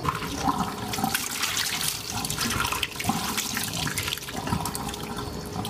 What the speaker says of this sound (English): Drain the noodles.